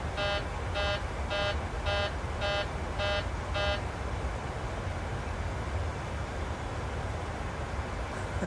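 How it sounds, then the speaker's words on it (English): Cabin pressure warning in a Boeing 737-800 cockpit in Microsoft Flight Simulator, seven evenly spaced electronic beeps over a constant loud engine and air hum that keeps going after the beeps stop. "That beep will go off once the pressure goes down."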